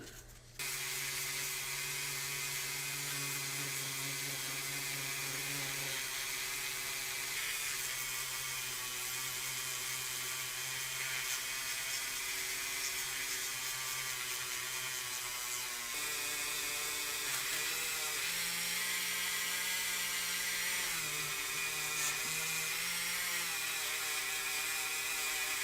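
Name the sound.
polishing out 2000 grit scratches on Matchbox van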